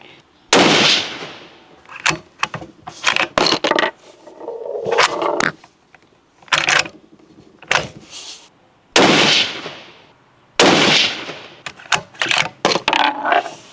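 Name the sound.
gunshots from Springfield Armory Model 2020 Boundary rifle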